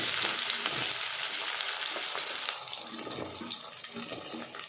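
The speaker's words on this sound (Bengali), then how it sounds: "সেগুলো আমি তেলের মধ্যে ছেড়ে দেবো।" Cubed onions hit hot oil in a pan and sizzle loudly at once, a dense, steady frying hiss that eases slightly as it continues, close by and alone.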